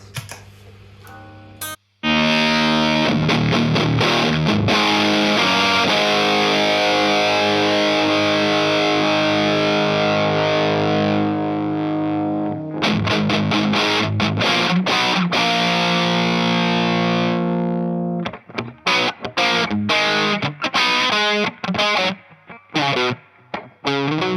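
Heavily distorted electric guitar chords through a Behringer Ultra Metal or Heavy Distortion pedal ring out loud and sustained, with brief pauses and choppy strummed bursts toward the end.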